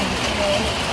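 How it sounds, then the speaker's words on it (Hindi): Very heavy monsoon rain pours down steadily in a dense, continuous hiss with no breaks, loud and close throughout. "बहुत तेज बारिश हो रही है।"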